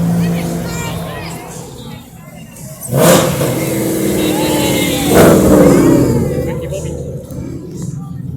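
A McLaren sports car revs its engine at the Targa Tasmania rally ceremonial start, with two loud surging revs rising over a busy crowd murmur and idling traffic.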